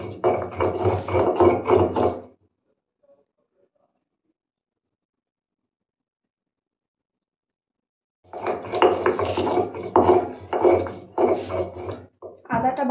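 Ginger is ground by hand on a stone grinding slab (shil-nora), making rhythmic gritty rubbing strokes close up. Two bursts of grinding are separated by a long silent pause.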